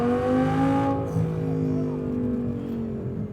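A tuned Audi R8 V10+ supercar accelerates on a street, its engine note a loud, rising harmonic howl from inside the cabin that eases off into a steadier cruising drone.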